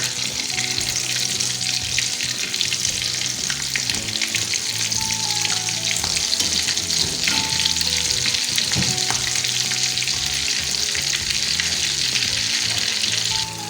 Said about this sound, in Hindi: टिक्कियाँ फ्राई हो चुकी हैं।